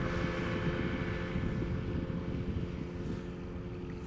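A KLM passenger airliner on flight 1666 at Schiphol Airport, its engines giving a steady, distant broadband roar with a faint whine that eases slightly toward the end, with no speech.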